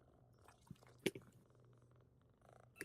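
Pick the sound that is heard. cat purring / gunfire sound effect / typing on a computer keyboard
cat purring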